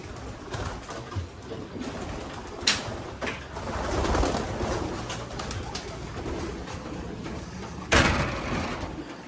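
Racing pigeons out in the rain with steady rainfall hiss throughout, occasional soft coos and a couple of sharp flapping or knocking bursts near and far.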